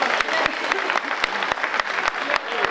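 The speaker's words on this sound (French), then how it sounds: "Et je vous demande vraiment d'applaudir le travail qu'ils font, notamment le travail que fait Karine" Audience clapping at a village patronal festival in Le Prêcheur: a steady wash of many hands with a few sharper claps standing out, fairly close and continuous throughout.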